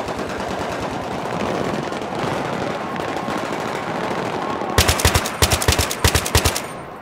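Vehicle-mounted turret machine guns firing in Battlefield 3, a loud chaotic battle wash that breaks into sharp rapid bursts of heavy automatic fire near the end, with no talk.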